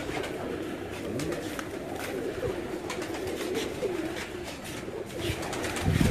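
Pigeons coo softly and repeatedly on a rooftop in Gujrat, low and somewhat distant, over a noisy outdoor background with faint scattered movement.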